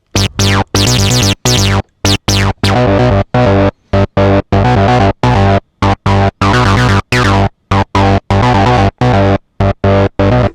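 A distorted Bass Station II synth acid bassline pulses in a repeating sequenced pattern, its squelchy resonant filter sweeping up and down, loud and alone without voices.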